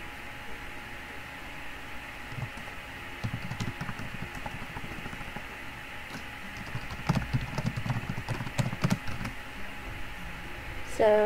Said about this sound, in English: I just went quiet a minute because I was typing something.